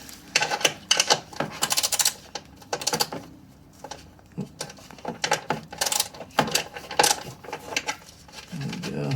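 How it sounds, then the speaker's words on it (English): An 8mm socket and ratchet work bolts loose on a 2021 KTM Adventure R motorcycle, close metallic clicks and rattling bursts in irregular clusters with short quiet gaps between, no talking. "I'm gonna get my 8mm socket and use that guy to take this off."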